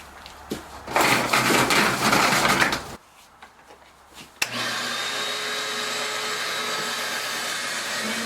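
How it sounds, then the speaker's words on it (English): Shop vacuum roaring loudly and close while cleaning out tanks in a shed, starting in bursts, dropping out briefly, then running steadily. "we're just going to vacuum the tanks out right quick"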